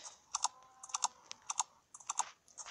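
Keys clicked in quick pairs and small clusters, bright and close, with short gaps between bursts over a quiet background and no speech.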